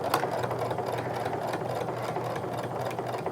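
A sewing machine runs steadily around the edge of a sling bag with many pockets, giving a continuous, even mechanical whir up close with a fast stitching rhythm and no talking.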